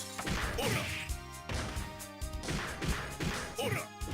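Glass-throwing attack in the fighting game JoJo's Bizarre Adventure: Heritage for the Future, a string of sharp crashing smashes and whacks in quick bursts amid game effects, fairly loud.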